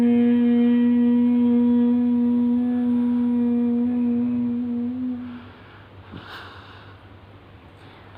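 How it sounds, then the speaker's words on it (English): A closed-lip Om is hummed in one long, steady voiced tone that lasts about five seconds, fades, and is followed by a soft breath and quiet room noise, as part of a yoga breathing exercise. "close your lips and make a Om sound"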